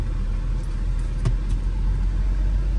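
Car engine running steadily as it is driven, a continuous close, loud low rumble with a slight rise around the middle and no clear separate gear-change break.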